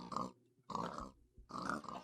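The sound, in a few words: pigs in the video game Minecraft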